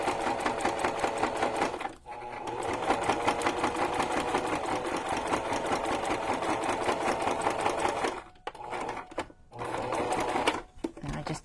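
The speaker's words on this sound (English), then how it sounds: "And I just do a little back stitch there." A sewing machine stitches through a Halloween junk journal cover, a close, rapid rhythmic clatter running steadily for several seconds, then a few short stop-start bursts near the end.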